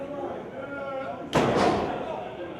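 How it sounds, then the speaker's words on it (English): Two heavy thudding chops land in quick succession in a wrestling match, loud and close, cutting sharply through steady commentary chatter. "Wow, those were some thudding chops, Chris"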